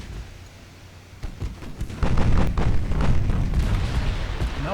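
Battlecruiser naval guns fire in the video game Ultimate Admiral Dreadnoughts, deep booming shots rolling over a constant low rumble of the sea and engines, growing louder partway through.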